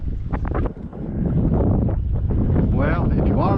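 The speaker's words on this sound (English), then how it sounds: "I'm in 10 to 20-mile-an-hour gusts of wind" Strong gusty wind of 10 to 20 miles an hour buffets the microphone in rough, roaring surges on a fishing boat, with a voice faintly audible beneath the noise.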